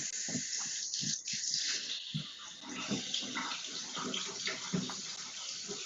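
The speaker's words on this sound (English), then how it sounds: "Somebody's running water making me want to pee." Water running from a tap indoors, a steady hissing stream that holds throughout with faint knocks and clatters around it.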